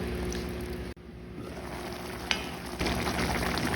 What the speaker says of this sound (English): we're just going to cover that and let those potatoes cook through, get nice and tender, and also let the sauce thicken up